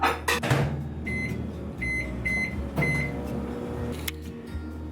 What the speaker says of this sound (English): I'm just gonna pop this in the microwave